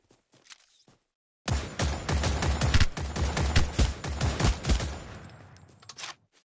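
Explosions in Apex Legends from a bombardment hit in a rapid, dense barrage of loud booms and cracks. They start abruptly after a quiet moment and cut off after about five seconds.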